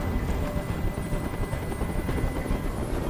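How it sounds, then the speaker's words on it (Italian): A helicopter in the video game Detroit: Become Human gives a steady, dense rotor roar that fills the whole stretch without a break, loud and continuous with no voices over it. "Questo rumore mi sta facendo impazzire! Digli di mandare via quell'elicottero!"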